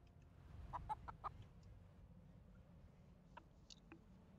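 A chicken in a farming video game clucks in a few short, faint bursts over a low background hum, with no talk.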